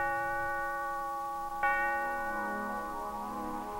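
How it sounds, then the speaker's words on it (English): Church steeple bell in a radio drama of A Christmas Carol set on a snowy early Christmas morning in London: a sustained, ringing bell tone with a second strike partway through, moderately loud and alone with no talk. "There's a steeple bell."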